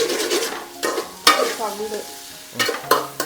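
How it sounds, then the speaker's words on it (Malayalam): Fenugreek seeds sizzle in hot oil for a fish curry while a spoon stirs them, with scraping strokes against the pan at irregular intervals and a soft crackle underneath, close and clear. "ഉലുവ ഇട്ടു നന്നായി മിക്സ് ആക്കിക്കൊണ്ടിരിക്കുകയാണ്"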